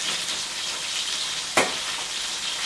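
Marinated duck beaks sizzle steadily in hot frying oil, a constant broadband crackle with one brief clatter as pieces are turned over partway through; no voices.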